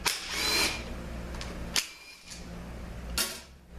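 A power tool backs out the neutral switch bolts on a 5R55S transmission during a teardown. Three short, sharp whirring bursts sound up close, separated by quiet pauses.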